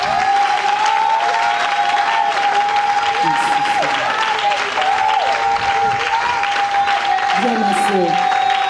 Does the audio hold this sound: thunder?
no